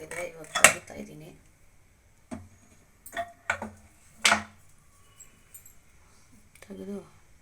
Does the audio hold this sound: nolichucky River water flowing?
no